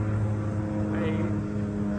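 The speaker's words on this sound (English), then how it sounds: "We got a plane going over." A propeller airplane passes overhead outdoors at a magnet-fishing spot, heard as a steady low droning hum that holds throughout, with a faint background voice.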